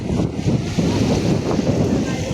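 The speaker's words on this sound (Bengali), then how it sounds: "কিন্তু প্রচুর বাতাস।" Strong sea wind at Patenga beach in Chittagong, a loud continuous rumble of wind buffeting the microphone with faint surf underneath and no clear talk.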